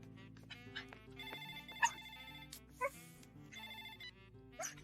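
A telephone rings after a redial in a 2007 Bollywood comedy film scene, with repeated electronic ringtone trills over a quiet tonal background, fairly faint and steady with a few brighter chirps.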